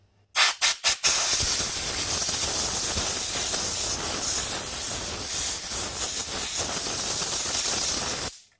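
Compressed air from an airline blows out a Suzuki KingQuad ATV foam air filter element, opening with a few short sharp bursts, then a loud continuous close hiss lasting several seconds before cutting off.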